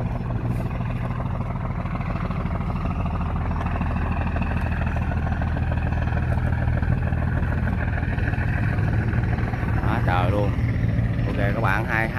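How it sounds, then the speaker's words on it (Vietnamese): Fishing boat engines drone and chug steadily as boats race out to sea in Vietnam, a loud continuous rumble throughout, with someone talking over it and a few higher shouts near the end. "hai ghe đang đua nhau chào đạp kìa, phịch phịch khói các bạn thấy không?"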